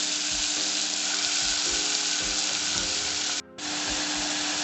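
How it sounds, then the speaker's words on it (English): Two chopped onions for lamb juice sizzle and fry loudly and steadily in a hot pan, with soft stirring scrapes through the constant crackle and a brief dip near the end. "So we're going to cook this onion till it gets caramelized"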